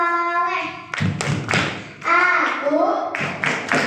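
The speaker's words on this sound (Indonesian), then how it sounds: "Yuk kita tepuk anak soleh." Children play the rhythmic clapping game tepuk anak soleh, sharp hand claps and thumps landing in short bursts between chanting voices, close and lively.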